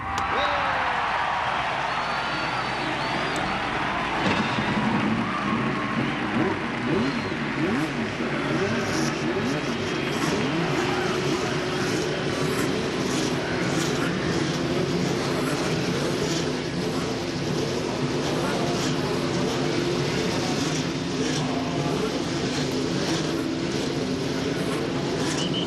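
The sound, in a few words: Indy 500 race car engines starting and running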